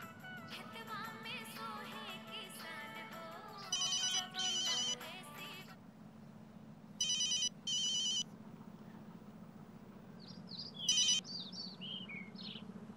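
A telephone rings in repeated electronic bursts, moderately loud, separated by pauses, with a steady low hum and faint chirps in the background.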